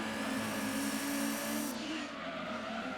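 Race car engine from the Gran Turismo 2 video game, a steady loud drone with harmonic bands and a hint of tire noise, dropping off abruptly near the end as the high end cuts out.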